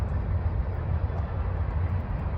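Fast-moving trains pass at night, a steady loud rumbling roar of rail traffic that fills the whole stretch without pause.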